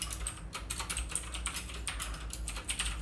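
Rapid, uneven keystrokes on a computer keyboard while a file name is typed, a string of crisp close clicks over about three seconds, quiet, with no voices.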